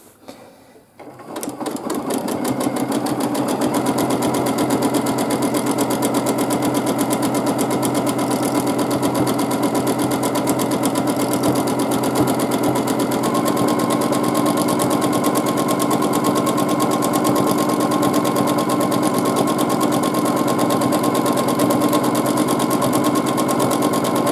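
A domestic sewing machine stitches free-motion quilting, running at a fast, even buzz that holds steady and loud from start to finish with no voices.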